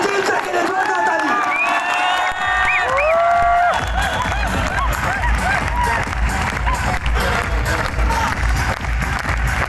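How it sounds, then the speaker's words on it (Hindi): A huge crowd in Delhi's IG Stadium gives a loud standing ovation at a company event, a continuous roar of clapping mixed with shouts and whistles throughout. "सभी लोग अब तक की सबसे जोरदार जबरदस्त खड़े होके तालियां"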